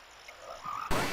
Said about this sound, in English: These goofy frogs.